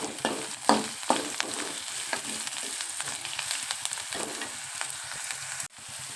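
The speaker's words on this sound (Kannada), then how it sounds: "ಅದಕ್ಕೆ ದಪ್ಪ ಮೆಣಸಿನ್ಕಾಯಿ ಈಗ ಕಟ್ ಮಾಡಿ ಇಟ್ಕೊಂಡಿರ್ತದಲ್ಲ ಅವನು ಸ್ವಲ್ಪ ಹುರ್ಕೋಬೇಕು" Chopped capsicum fries with onions in oil for a bread toast topping, giving a continuous close sizzle with repeated scraping stirs, then a sudden drop in level near the end.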